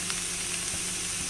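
Vegetables for a paneer sandwich sauté in a pan with a soft, steady, continuous sizzle, heard close up and without talk.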